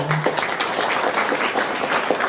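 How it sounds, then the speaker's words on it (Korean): Audience applause welcoming a speaker to the stage at an annual conference of women in science and technology, a steady dense round of clapping filling the room for a couple of seconds before cutting off. "강연을 해주실 김영자 회장님께 큰 박수로 맞이해 주시기 바랍니다"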